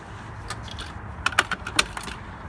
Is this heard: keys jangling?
yes